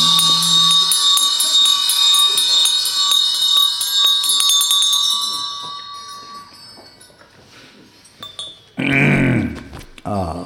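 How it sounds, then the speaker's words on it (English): Ritual bell rung during prayer, a bright sustained metallic ringing that is loud at first and slowly fades, followed by a burst of voice near the end. "So while you're ringing the bell"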